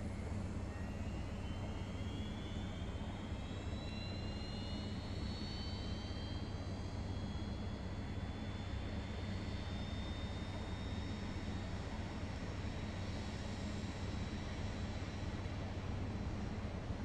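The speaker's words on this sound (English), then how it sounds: "Starting engine 2." An Airbus A320 jet engine spools up in the X-Plane 10 flight simulator, a steady loud roar with a slowly rising whine running throughout, continuous and close.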